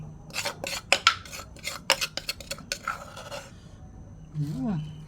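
A ladle scoops pounded pork salad into a dish, giving a quick run of sharp clinks and scrapes of metal against crockery, followed by a short stretch of voice.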